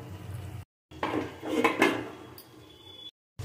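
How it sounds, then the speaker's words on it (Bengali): A pot lid is lifted and a spoon stirs a bean and tomato curry, close metallic clanks and scraping against the pot in a short burst, with no voices. "ঢাকনা খুলে আমি একটু নাড়িয়ে দেবো।"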